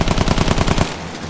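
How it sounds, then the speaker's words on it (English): Anti-aircraft gun in the video game Battlefield 1 fires a rapid, loud burst of about a dozen evenly spaced shots, then stops abruptly, leaving a brief fading tail. "AA gun."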